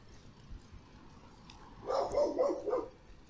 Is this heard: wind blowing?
no